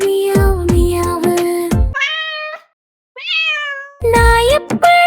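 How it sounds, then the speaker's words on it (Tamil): Cat meowing in animal-sound sequences: several loud, close meows in two bursts with a short silent gap between, no talk. "பூனை எப்படி கத்தியது? Meow meow meow."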